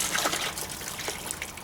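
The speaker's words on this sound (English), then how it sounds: "I still drain water out of here like I just showed you" Water gushing and trickling out of a cage watering manifold as it is drained to purge air from the quail, rabbit and chicken watering system, a steady close splashing flow with no talk.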